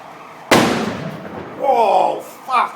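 A burning car in Thamesmead explodes with one sudden loud bang and a lingering rumble, and people call out excitedly as it fades.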